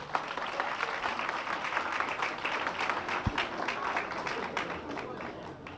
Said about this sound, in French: Sous l'éclat de vos acclamations